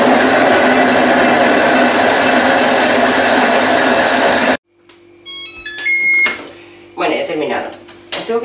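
A GM G multicooker pot chopping apples at speed 4, a loud steady whirring grind that runs for several seconds before cutting off abruptly, followed by quiet clicks and beeps.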